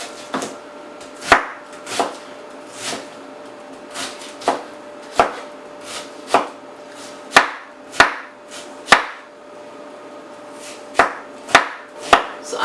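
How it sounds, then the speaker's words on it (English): A knife chops an onion on a cutting board, about fifteen sharp, distinct thuds at an irregular, unhurried pace, close and clear with no talking. "Just finishing chopping up my onion"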